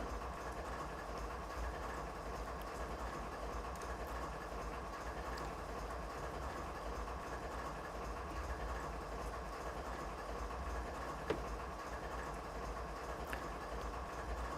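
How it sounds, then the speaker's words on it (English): Locomotive braking slowly on its straight brake in the Canadian Mountain Passes route of Train Simulator 2021, a faint steady rail rumble and engine drone with an occasional soft click, no talk. "It's amazing how slowly this locomotive actually stops on its straight brake when it's just itself"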